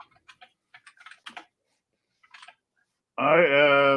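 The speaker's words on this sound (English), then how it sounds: "I am typing a response to somebody on Reddit." Scattered keystrokes tap on a computer keyboard in short bursts of clicks with pauses between them, close and crisp, before a voice starts speaking at the end.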